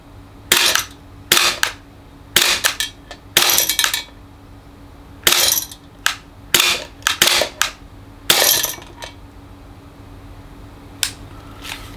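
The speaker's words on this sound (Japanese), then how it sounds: "少し発射してみます。" Tanaka SIG P220 gas blowback airsoft pistol firing about a dozen sharp, loud, close cracks in irregular bursts, each shot with a snapping slide cycle, and no voices.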